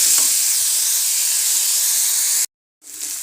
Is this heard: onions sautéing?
yes